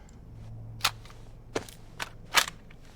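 A gun magazine is swapped in a video game: a few sharp, close mechanical clicks and clacks, spaced out over a quiet background hum.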